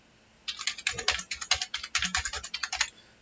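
Rapid typing on a computer keyboard, around twenty close, crisp key clicks in quick uneven bursts after a brief silence, no speech.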